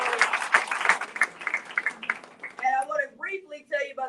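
Audience applause at a Hamilton County cancer event honoring a charity's relief bus, a couple of seconds of scattered clapping from a crowd that fades as a speaker resumes talking.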